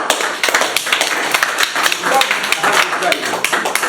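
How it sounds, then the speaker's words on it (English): Audience clapping for a speaker at a sickle cell disease medical education session at a Kalangala health centre, a dense, fairly loud round of applause with overlapping voices throughout. "I think you should give him a thunderous clap"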